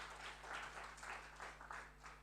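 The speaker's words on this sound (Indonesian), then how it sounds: "Berikan tepuk tangan yang panjang buat Tuhan." Faint, distant applause from a church congregation during a sermon, a steady patter of many hands over a low hum, lasting a couple of seconds.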